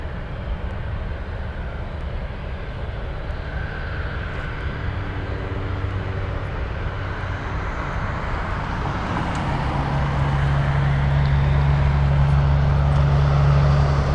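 A Boeing C-17 Globemaster military cargo jet at Anchorage airport, its engine roar swelling steadily louder as it draws nearer, a broad continuous rumble with a low droning hum over distant background noise.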